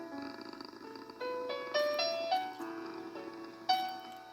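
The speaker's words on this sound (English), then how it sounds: "Garfield purred happily." A contented cartoon cat purring on a 1988 book-on-tape recording, the soft purr woven under bright tonal music that steps up and down in pitch for about four seconds.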